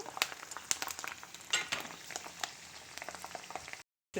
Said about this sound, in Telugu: వెల్లుల్లిపాయలు వేసి దోరగా వేయించడమేనండి